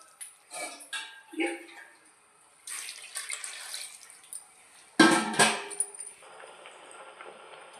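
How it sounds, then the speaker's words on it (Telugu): Water poured into a cooking pot of moong dal and bottle gourd in a home kitchen, coming as several short splashing bursts with light clinks of utensils, fairly faint and close. "వాటర్ వేసుకుని ఉడికించుకోవాలండి."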